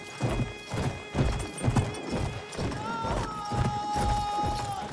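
Horse hooves clip-clop at a gallop with a whinny in the Battlefield 1 video game, set near an Ottoman fortress, the steady rhythmic hoofbeats loud and close over a dense game soundscape with faint tonal music.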